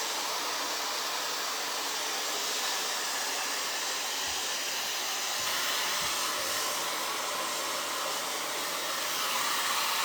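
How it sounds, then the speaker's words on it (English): A hair dryer blows a steady, loud whooshing stream of air through curly hair, an unbroken broadband roar that holds level for the whole stretch with no talk. "we're literally just letting this dryer just basically blow air throughout Sky's hair"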